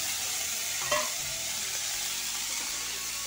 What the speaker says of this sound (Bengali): তো দেখো তেলটাকে দিয়ে দিচ্ছি।